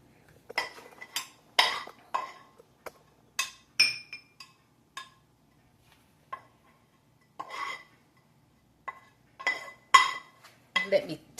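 Stir-fried garden squash is portioned onto plates: a scattered series of sharp clinks and clatters of dishes and utensils, close and fairly quiet, with short pauses between.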